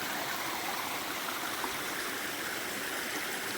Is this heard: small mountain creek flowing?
yes